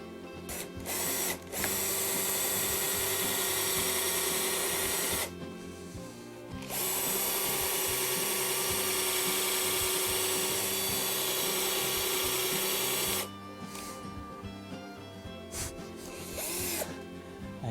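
A power drill whirs in two long sustained runs driving a screw into a wooden ski chair, loud and close, with short clicks and pauses between bursts.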